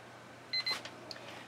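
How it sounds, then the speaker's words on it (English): A kitchen timer beeps in a quiet room where fluid acrylic paint is being puddle-poured, giving two short, clear electronic beeps in quick succession, followed by faint clicks and rustling. "that's my timer telling me that I've got 2 minutes"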